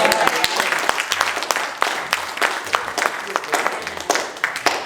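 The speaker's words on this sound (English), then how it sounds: "Can I get a round of applause?" Loud, close applause from an audience at a talk, with many distinct hand claps crackling steadily across the whole stretch and no voices over it.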